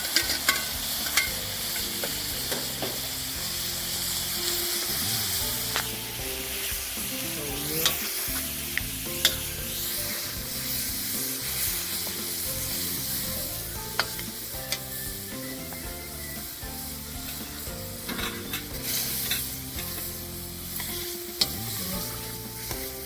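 Crushed tomatoes sizzle in a paella pan over a wood fire, giving a steady, bubbling frying hiss throughout, with frequent scraping and clinking as they are stirred.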